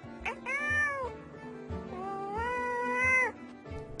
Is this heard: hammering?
no